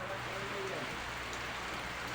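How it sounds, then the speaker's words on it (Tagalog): Heavy rain pours down during a downpour, making a dense, constant hiss of drops hitting surfaces at a low, even level throughout. "sobrang lakas ng ulan dito"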